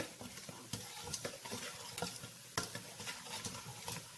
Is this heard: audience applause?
no